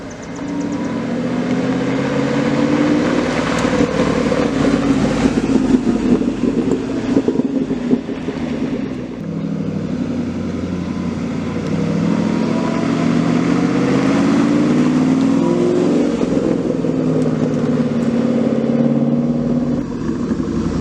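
A 2012 Ford Mustang Shelby GT500 driving on winding mountain roads, its steady engine drone rising and falling with throttle changes, loud and continuous throughout.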